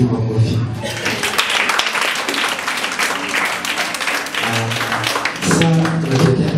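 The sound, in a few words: clapping hands in church service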